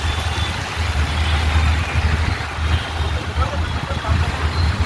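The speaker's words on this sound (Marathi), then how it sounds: "पुण्यातलं ट्रॅफिक." Busy traffic on the road near Navale Bridge toward Satara Road in Pune, heard as a steady, loud, low rumble of engines with no break.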